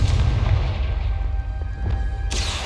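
A Confringo blasting curse exploding in Hogwarts Legacy: a heavy, booming roar with a deep rumble that fills the whole moment, loud and sustained, with a fresh burst of noise near the end.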